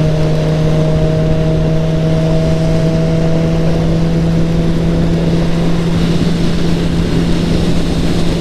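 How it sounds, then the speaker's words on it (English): A motorcycle engine rumbles steadily right behind, a loud, close, constant drone with a strong steady hum, holding at one pitch and growing rougher toward the end, with no voices over it. "there's a motorcycle behind me"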